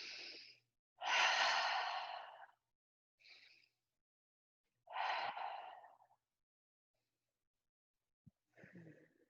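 Slow, deep breaths are taken while a self-massage pressure point near the spine is held: about four long, close inhales and exhales separated by silent pauses, with soft sighing tones.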